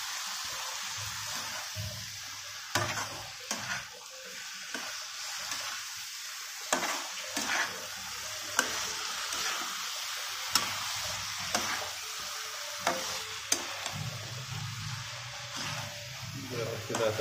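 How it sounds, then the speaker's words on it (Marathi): Vegetables coated in masala stirred in a pan for a Makar Sankranti mixed-vegetable dish, giving soft scraping and light sizzle under a steady background hiss, with occasional sharper clacks of the spoon against the pan. "आता हे सगळे व्यवस्थित मिक्सर करून घ्यायचे आहे, जेणेकरून आपण जे मसाला बनवलेला आहे तो पूर्णतः सर्व भाजीला लागला पाहिजे"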